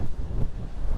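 Strong gusting wind on a mountain in the eastern Drumochters batters the microphone in a loud continuous low rumble with uneven pulses.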